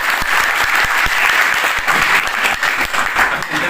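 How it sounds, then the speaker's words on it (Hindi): Loud, sustained audience applause at the inauguration of a Vita milk collection centre in Mehuwala village, many hands clapping close and continuously with a faint murmur of crowd underneath. "जोरदार तालियों के साथ"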